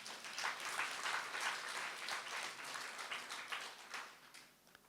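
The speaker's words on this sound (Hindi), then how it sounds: "ताली बजाओ ना जरा।" A seated audience at a spiritual class session in Dehradun claps steadily for several seconds. The applause is dense and fairly distant, then tapers off at the end, with no talking over it.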